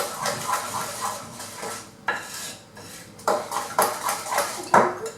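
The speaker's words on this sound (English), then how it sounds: "Just keep whisking yourself." Whisking cake mix with margarine in a bowl, a run of quick metallic scrapes and clinks against the bowl, rhythmic and close, with no talking.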